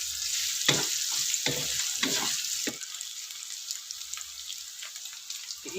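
Ingredients sizzling in hot oil as they are sautéed for dinengdeng, an Ilocano vegetable dish, with several bursts of stirring and frying at the start before settling into a softer, steady hiss.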